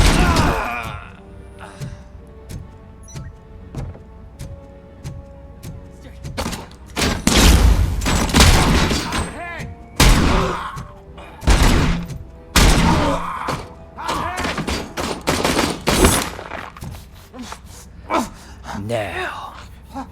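Gunfire in Robocop Rogue City, a video game, with bursts of shots and heavy thuds crowding the middle of the stretch amid loud combat noise, while voices talk and shout over it.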